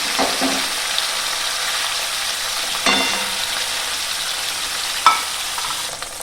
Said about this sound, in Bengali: পনিরগুলোকে হালকা করে ভেজে নেব আমি